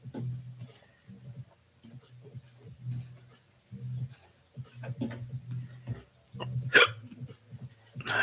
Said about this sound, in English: Sorry, I got hiccups.